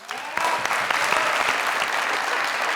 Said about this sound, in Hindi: यस, तालियां होनी चाहिए।